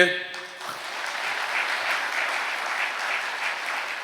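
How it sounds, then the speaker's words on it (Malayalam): An audience at a Catholic preaching session claps in a sustained, evenly dense round of applause after a brief voice at the start. "നിങ്ങളുടെ കൈയടിച്ചേ"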